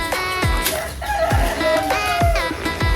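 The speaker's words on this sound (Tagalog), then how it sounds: "Nandito sa brooder, sa tangkal yung mga iba nating alagang manok." Pet chickens and a rooster in a brooder coop cluck and crow loudly and close by, with overlapping calls repeating in a steady rhythm.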